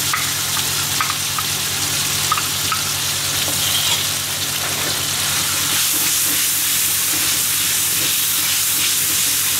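Tomato sauce and chili sauce sizzle steadily in a hot pan while sweet and sour fish is cooked, a loud, continuous frying hiss with a few stirring clinks and no talk.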